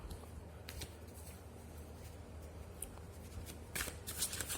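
Tarot cards being shuffled by hand, a soft continuous riffling and flicking close by, with brighter snaps toward the end and no talking.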